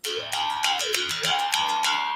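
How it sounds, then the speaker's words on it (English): An old mountain mouth bow, a stick with a single string, is plucked in a twangy, buzzing run of notes whose pitches bend and shift resonantly, played close with no voices. "It's called the mouth bow, and it's an old mountain instrument."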